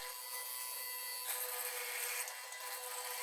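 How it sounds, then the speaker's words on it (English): A steady, dense drill whir as a 12 mm bit grinds through wood for a workbench leg vise, constant and close, intensifying slightly partway through and continuing without pause. "Drilling with a 12 millimeters."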